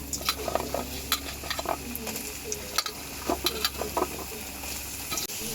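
Potatoes fry in ghee with bay leaf and whole spices for paneer rezala, giving a close, constant sizzle broken by scattered sharp crackles and spoon scrapes against the pan.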